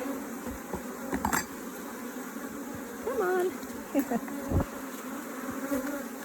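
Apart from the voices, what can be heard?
bees buzzing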